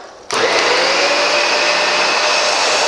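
A Dyson DC65 Animal upright vacuum cleaner switches on abruptly and runs with a loud, steady motor roar and high whine as it crosses from carpet to bare floor, close and unbroken.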